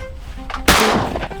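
A single sharp shotgun blast fires during a duck hunt in Oregon or Idaho, loud and close, then decays quickly into outdoor quiet.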